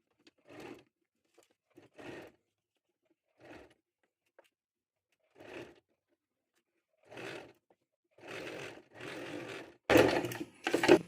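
A domestic sewing machine stitches the front and back panels of a kurti together in short separate bursts of whirring, getting longer and louder toward the end, with quiet gaps between runs.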